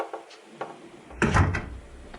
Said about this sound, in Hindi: क्या मैंने दरवाजा बंद नहीं किया?